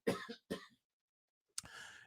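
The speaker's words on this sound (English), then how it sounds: "every time you have to cough, you wonder what's going on" A few short, sharp coughs from a person with a slight throat tickle, two quick bursts close together, a pause, then a longer rougher cough or throat clear, close and fairly quiet.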